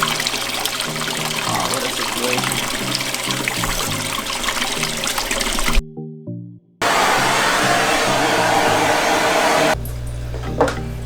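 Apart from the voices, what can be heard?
aquarium overhead sump filter pump pushing water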